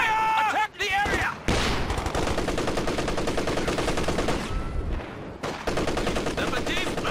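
Heavy automatic gunfire and shots in a Company of Heroes 2 online battle with British forces. The fire is loud and sustained with brief breaks, and shouted soldier voice lines play over it.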